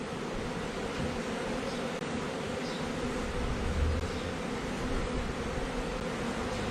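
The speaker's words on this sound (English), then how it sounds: "it's got a mess of bees on it" A close, steady drone of honey bees buzzing on a frame during a beehive inspection, continuous and dense without pause.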